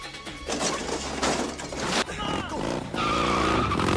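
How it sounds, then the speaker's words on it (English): Tires skid and squeal as a motorcycle makes its escape in a kung fu action movie, loud screeching sweeps layered over a dramatic music score and engine noise, with a sharper burst near the end. "They escaped on her motorcycle,"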